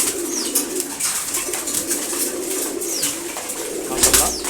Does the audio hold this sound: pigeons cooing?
yes